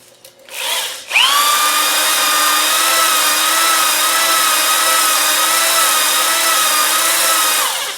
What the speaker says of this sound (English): I'm going to get my honing glaze buster to take out that rust in there